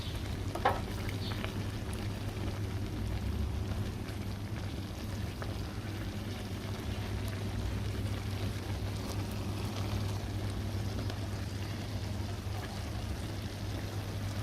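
Corn stir-frying in a pan gives a steady, continuous sizzle and crackle over a low hum, with no voices.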